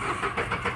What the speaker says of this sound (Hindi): मैं आपको गाड़ी स्टार्ट करके दिखाता हूँ।